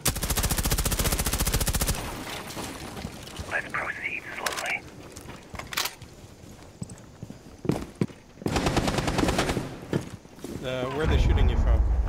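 Gunfire in Rainbow Six Siege during a House map team deathmatch, with loud rapid automatic bursts and single cracks scattered through the clip, mixed with in-game noise and players talking.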